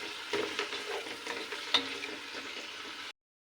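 Chicken with garlic and salt fries in a pan, a close, continuous sizzle with scraping stirring strokes for about three seconds before cutting to silence.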